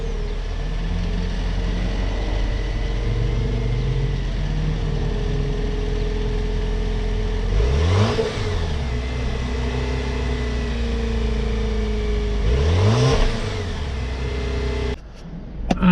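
A turbocharged Jeep Wrangler engine running steadily, with two strong revs that rise and fall back to a loud idle, heard close and alone.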